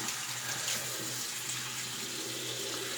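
A bathroom tap runs steadily to wet the face before shaving, a constant splashing flow close by with a faint low hum under it.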